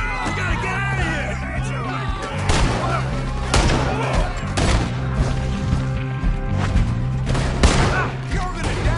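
Repeated gunshots crack through a Red Dead Redemption 2 shootout in Saint Denis, loud and close in irregular bursts, with shouting voices and a steady musical drone underneath.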